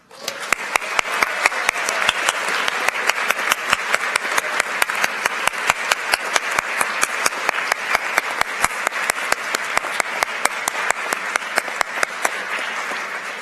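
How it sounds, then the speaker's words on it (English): An awards ceremony audience applauds honored student musicians, a long, steady wash of many hands clapping in a large hall, sustained and even throughout. "Please rise, honored musicians, and receive our applause."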